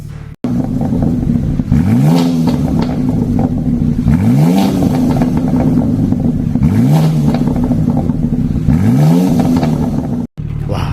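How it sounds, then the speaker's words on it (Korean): A BMW G87 M2 with a tuned exhaust revs repeatedly, four sharp rising blips at a steady rhythm over a rumbling idle, close to the microphone. "아주 강력한 퍼포먼스를 나타내는 배기음으로 완벽하게 바꿔드렸습니다"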